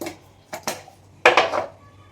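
Woodapple chutney with green chillies being ground by hand, a few short scraping, knocking strokes close up, with one longer rasping grind near the end; no talking.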